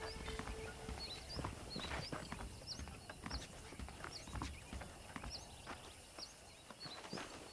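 Faint, quiet hoofbeats clip-clop at a steady walking pace in Red Dead Redemption, with light chirps in the background.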